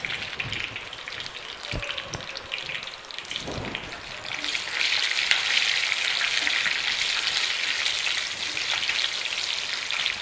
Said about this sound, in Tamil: இப்போது எண்ணெய் நல்லா பாயில் ஆயிடுச்சு. இதில் கடுகு, கருவேப்பிலை கொஞ்சம், பச்சை மிளகாய்